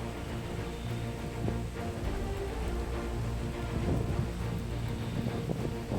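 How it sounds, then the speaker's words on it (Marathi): Steady monsoon rain pours continuously at the entrance of Sudhagad fort, a dense even hiss with scattered heavier drops and a low rumble underneath. "किल्ल्याच्या प्रवेशद्वारापर्यंत पोहोचलो तेव्हा कुठे पाऊस चालू झाला"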